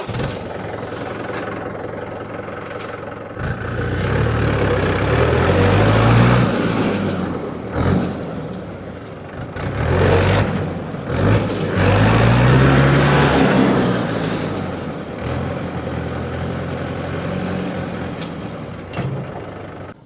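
Tractor engine running steadily outdoors, loud and close, rising and falling as it revs, with no talk over it.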